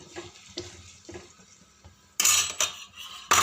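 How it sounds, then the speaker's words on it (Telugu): Onions and green chillies stirred in hot oil, starting with soft, sparse scrapes and taps, then turning into a loud, bright sizzle with clattering strokes of a spoon against the pan; no voices. "ఉల్లిగడ్డలు, పచ్చిమిరకాయలు వేసుకోవాలి. కలుపుకోవాలి."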